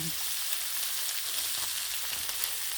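Bacon sizzles and spits on a hot Blackstone griddle, a dense, steady crackling hiss that fills the whole stretch at close range without any talking.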